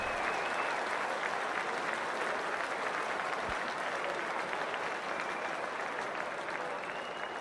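Stadium crowd in the video game Cricket 2024 cheering and applauding before the first ball, a steady dense wash of clapping and roaring that holds loud and unbroken throughout.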